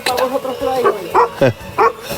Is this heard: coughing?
no